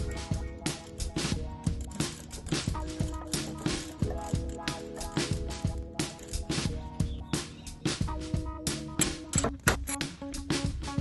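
A wrench works a bolt on a Miller Bobcat 225G welder/generator, giving a steady run of close, clicking ratchet pulses with metallic rattles, repeating in quick regular bursts.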